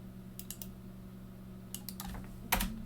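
Scattered computer keyboard keystrokes come in a few short clusters as Cisco router configuration commands are entered, close and fairly quiet over a steady hum.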